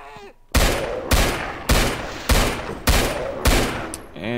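Six evenly spaced, heavy sniper rifle shots ring out loud and close in Half-Life 2 Episode One, each a sharp crack with a short decaying tail, with a brief voice fragment at the very end.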